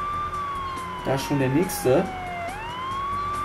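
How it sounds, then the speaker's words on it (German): A police siren from the LEGO City My City 2 video game wails steadily throughout, gliding down and then sweeping back up, while someone talks in German over part of it. "Der Sirenenmast. Und damit werden wir ganz schnell."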